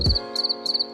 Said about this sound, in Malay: Beginilah keadaan di dalam sesebuah sangkar cengkerik.